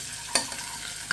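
Potatoes fry in a hot pan with a short, steady sizzle broken by a couple of sharp stirring clicks.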